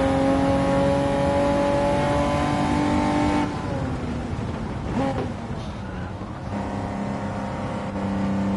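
A Mercedes with a German V8 engine in Gran Turismo 7 holds a loud, sustained drone with steady harmonic tones, then shifts pitch as it slows and re-accelerates, with a voice speaking over it.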